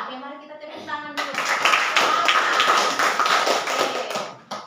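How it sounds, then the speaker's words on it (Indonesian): Students in a classroom break into a burst of rapid hand clapping that lasts several seconds and then fades, with a voice speaking just before it starts. "Oke, mari kita tepuk tangan dulu."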